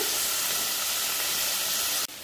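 Onion, garlic and tomato fry in a pan for a Bengali spicy puti fish curry, giving a loud, steady, steamy hiss that runs nearly unbroken and then drops off sharply at the end.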